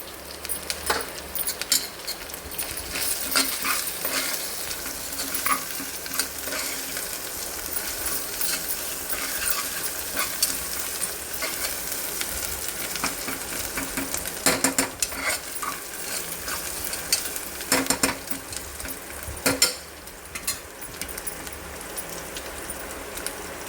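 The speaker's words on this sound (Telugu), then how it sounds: "కొంచెం ఫ్రై కావాలి ఇది." Food fries in a pan with turmeric added, stirred by a spoon: a long stretch of soft sizzling broken by irregular scrapes and a few sharper clinks against the pan, with no voices.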